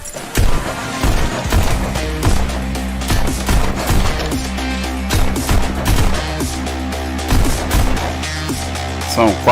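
Rapid gunshots in the VR rhythm shooter game Pistol Whip, sharp shots firing in quick bursts over pounding electronic music with a heavy beat.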